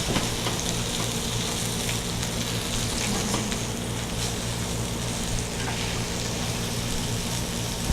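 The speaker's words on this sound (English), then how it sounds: "you can see they're frying up nice and golden" Tofu fries in oil in a pan, giving a steady, close crackling sizzle that carries on without a break for several seconds, with no voices over it.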